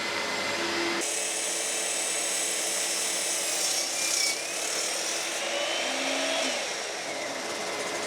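A power saw cuts wood pieces to height for an anvil stand. A high, continuous whine runs throughout, shifting in pitch as the blade works through the timber, with no voices.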